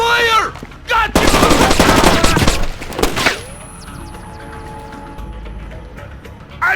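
Automatic gunfire in the stealth video game Splinter Cell Chaos Theory: a loud, dense rattling burst lasting a couple of seconds, followed by a quieter tail of game ambience, with shouted voices just before.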